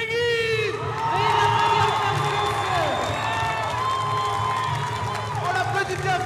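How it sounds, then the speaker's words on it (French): Crowd at a Miss Wallis and Futuna beauty pageant gala cheers and whoops loudly, with high shouts and sustained noise, some applause mixed in, and a voice over a microphone underneath. "On l'applaudit bien fort, s'il vous plaît"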